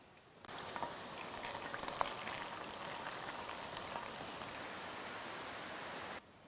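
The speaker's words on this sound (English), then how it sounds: "while that garlic is sauteing" Garlic sizzling in a hot pan, a steady broadband frying hiss with faint crackles and pops, close and continuous for about six seconds with no talk.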